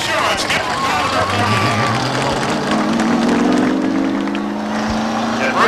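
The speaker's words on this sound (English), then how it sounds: "Applause for your time trial winner, Robbie Crouch, Rowell Insurance. Get the crowd up." Speedway crowd at Beech Ridge Motor Speedway in 1991 applauding and cheering a time trial winner, a broad wash of clapping under an announcer's voice with rising engine drone.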